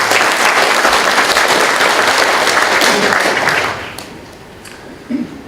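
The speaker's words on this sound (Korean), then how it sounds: "큰 박수로 맞이해 주시기 바랍니다." An indoor audience at a tap-water symposium applauds to welcome an assemblyman, a dense, sustained burst of clapping from a full room that fades out toward the end.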